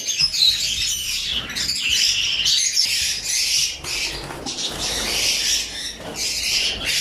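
Caged breeding birds in an indoor aviary room chirp and squawk continuously, a dense, busy chorus of overlapping calls close by.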